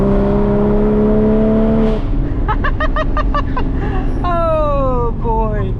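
A Porsche Cayman GT4 engine with an open header roars loudly and rises through rapid gear-shift revs, harsh and raw, close by and with no voices.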